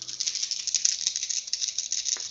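Dice rattling and clattering together during a Warhammer Underworlds tabletop game, a steady close shaking roll lasting a couple of seconds with no voices.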